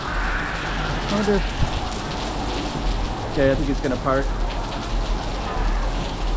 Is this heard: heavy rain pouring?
yes